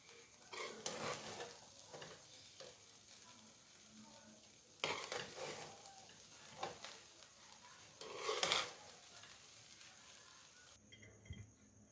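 Sweet carrot mutanjan rice is stirred in a pot, with bursts of scraping and mixing that rise and fall over a faint sizzle, ending in a short quiet stretch.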